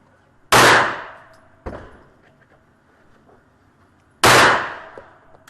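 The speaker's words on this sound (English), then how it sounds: "These were actually my first 2 shots with the TS." CZ 75 Tactical Sports pistol fired at targets during practice: two loud, sharp shots several seconds apart, each with a short decaying echo, and a fainter metallic clank between them.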